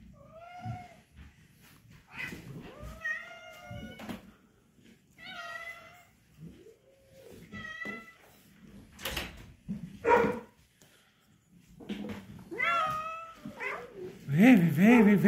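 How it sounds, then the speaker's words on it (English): Several cold kittens and cats meow repeatedly indoors, with short, high, rising calls scattered close by between quiet gaps. Someone speaks softly at times, and there are a few rustles and a sharper cry near the end. "Is that Dax cat"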